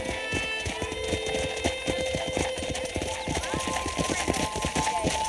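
Horse hooves clip-clop steadily in Red Dead Redemption, a brisk regular trot of many sharp hoof strikes near the listener, with a faint tonal hum and game ambience behind.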